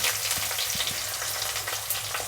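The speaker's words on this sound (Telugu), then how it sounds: "ఉల్లిపాయ ముక్కలు ఇందులోనే కరివేపాకు ఉల్లిపాయలు కొద్దిగా వేగనిద్దాము" Sliced onions and curry leaves frying in a pan for a cucumber, carrot and capsicum curry, a steady close sizzle with a few soft stirring clicks.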